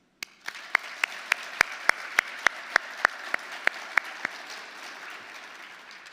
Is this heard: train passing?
no